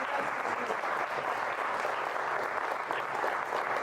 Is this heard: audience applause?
yes